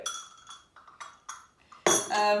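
Teaspoon clinks against a china teacup and saucer in a few light, scattered taps, ending in a louder, ringing clatter of china close by.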